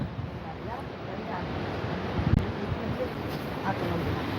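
Wind buffeting an outdoor microphone on a blustery seafront, a continuous low rumbling roar with a stronger gust in the middle, no clear speech over it.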